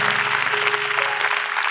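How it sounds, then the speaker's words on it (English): Church congregation giving a short burst of hand-clapping applause during a sermon service, a steady, close wash of claps with a faint tone humming underneath. "Can we just give a glad hand clap for them?"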